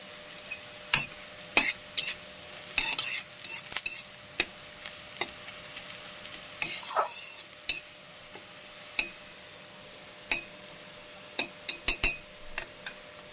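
Onions frying in oil in a pan for a tangra fish dish, a steady faint sizzle broken by sharp scrapes and clinks of a spoon stirring against metal at an uneven pace, with no talking.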